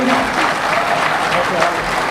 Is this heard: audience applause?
yes